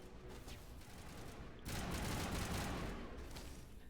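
Sniper fire in Mass Effect Legendary Edition during a space combat fight, a dense wash of gunfire that swells suddenly louder midway and stays heavy to the end.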